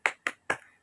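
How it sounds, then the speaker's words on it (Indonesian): A class claps hands together in a spirit clap, three sharp, evenly spaced claps ringing out quickly and fairly close with no talk. "Tepuk semangat"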